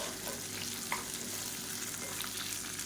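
Onions sauté in a pan for onion thokku, with tamarind stirred in, giving a steady, moderate sizzle with light stirring scrapes and no talking.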